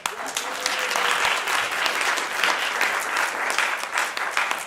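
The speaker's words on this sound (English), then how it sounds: "Round of applause." Audience applause for a law firm president introduced at a voting rights democracy summit, a steady, dense wash of many hands clapping at even loudness throughout.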